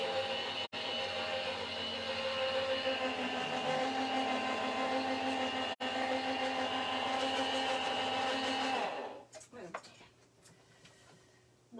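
A die-cutting machine runs stencil plates through its rollers with a loud, steady mechanical whir and hum lasting several seconds, then winds down into softer clunks and handling noise.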